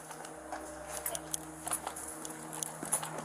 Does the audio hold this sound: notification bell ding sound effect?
no